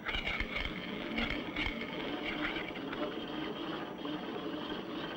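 A steel ball rolls around a dish as a rack-and-pinion linear motor, producing a faint, continuous rattling and ticking that stays at a low, even level throughout.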